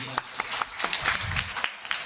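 Scattered applause for children's award winners at a school report-card and certificate ceremony, a few sharp separate claps heard faintly over a low murmur of voices.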